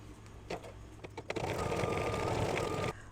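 An embroidery sewing machine stitches green thread on an in-the-hoop mug rug, starting with a few clicks and taps before settling into a steady, fairly close mechanical whir that stops abruptly near the end.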